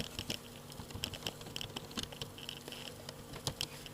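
Quick bursts of keystrokes on a computer keyboard as C++ code is entered, light irregular clicks at close range over a quiet hum, with no talk.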